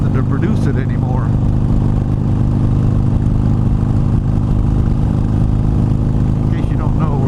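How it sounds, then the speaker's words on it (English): A Harley-Davidson Iron 883 motorcycle rolling downhill over a mountain road, its exhaust a steady, close, low rumble wrapped in constant wind noise, with a voice talking over it. "If you haven't noticed the exhaust note changing as we were laboring up the hill, and now we're going down"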